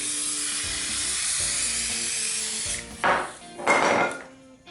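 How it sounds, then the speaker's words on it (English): A steady hiss runs throughout, then two short bursts of glue accelerator sprayed from an aerosol can near the end, close by. "So then we take our accelerator. We are going to spray it on the back side here."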